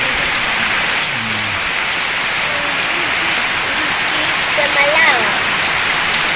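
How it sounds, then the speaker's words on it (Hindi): Heavy rain pours down in a steady, dense hiss that stays loud and even throughout, with a faint voice or two briefly surfacing beneath the downpour. "हम देख रहे होंगे बहुत ही तेज़ी से बारिश हो रही है"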